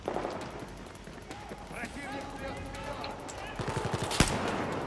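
Bursts of Battlefield 4 gunfire crackle over a busy soundscape in the single-player Singapore mission, with rapid shots near the end and a sharp loud blast, under faint talk.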